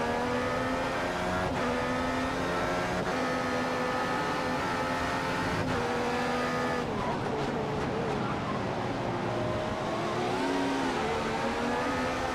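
Formula 1 cars race in the F1 2015 video game at the Malaysia circuit, with a steady, loud engine drone and harmonic whine throughout that shifts pitch with gear changes, and a brief tyre squeal late on.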